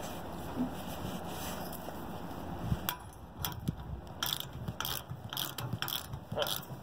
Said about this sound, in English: crank this down until the square groove of the bolt fits its way into the square slot